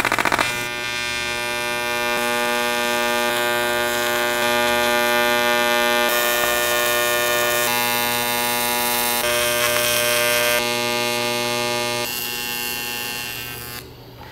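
An aluminum intake, partly cast metal, being TIG welded, giving a steady electric buzzing hum that holds for about fourteen seconds with only slight changes in tone and no talking.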